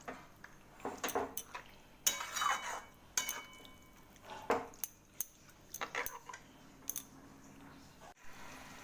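A metal spoon stirs yogurt-marinated chicken in a cooking pan close up, giving irregular clinks and scrapes against the pan with soft, wet shuffling between strokes.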